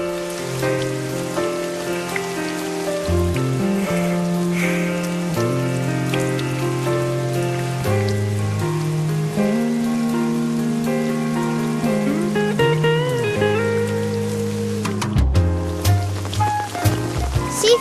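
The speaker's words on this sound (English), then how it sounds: "See if it's still raining." Steady falling rain in a Peanuts cartoon, a soft continuous patter running underneath a melodic music score throughout, with no talking.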